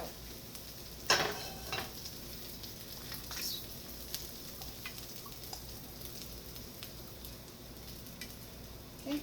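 Avocado oil heats in a pan for tacos with a quiet, steady sizzle, broken by a few light clinks and scrapes as it is stirred.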